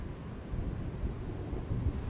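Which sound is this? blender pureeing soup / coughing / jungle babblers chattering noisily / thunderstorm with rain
thunderstorm with rain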